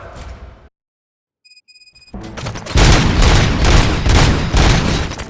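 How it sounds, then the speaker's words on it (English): Gunfire in the video game Robocop: Rogue City, loud heavy volleys and booming shots that break out after a brief silence and a few electronic beeps, then continue in rapid bursts. "Gunshots? What's going on?"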